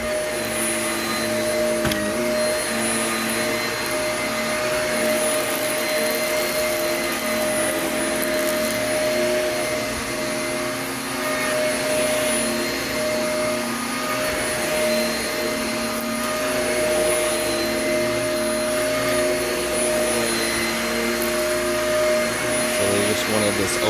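A vacuum cleaner runs steadily on carpet in a home, its loud constant whine and motor drone holding without a break, with a faint voice now and then underneath.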